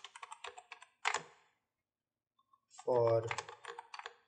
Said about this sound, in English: I will just type in the address bar